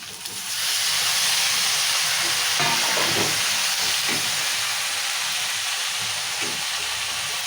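Chopped tomatoes and green chillies sizzle loudly in a hot pan for a tomato-chilli chutney, a steady close hiss that swells in the first second and holds, with faint stirring scrapes underneath.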